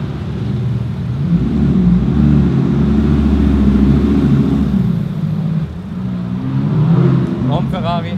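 A Lamborghini sports car drives past at a roadside sports car festival on Lake Wörthersee, its loud engine rumble swelling and fading while someone talks over it and other cars idle nearby.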